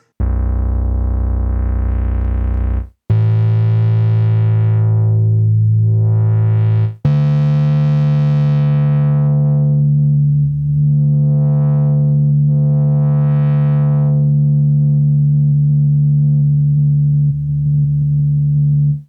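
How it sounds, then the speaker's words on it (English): A synthesized tone, built from a sampled sound, holds steady buzzy pitches that shift between notes, with sweeping filter movements opening and closing its brightness. "there we have a synthesizer, which is made from a small piece of audio"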